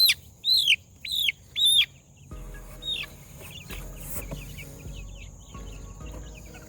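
Baby chicks taken out of a crowded brooder give three loud, close, high peeping chirps at the start, followed by fainter continuous cheeping and clucking over a low hum.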